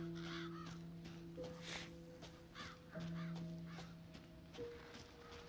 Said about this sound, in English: Hey, look, crows!